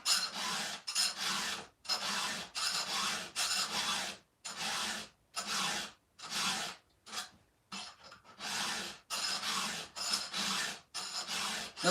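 A hand file rasps across chainsaw teeth in steady back-and-forth strokes, about twenty rhythmic scrapes with brief pauses between them, close and clear with no talking.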